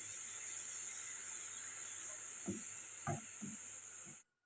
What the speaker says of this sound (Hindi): लहसुन अदरक के पेस्ट को तकरीबन आपने 1 मिनट के लिए जो है वो इसमें फ्राई करना है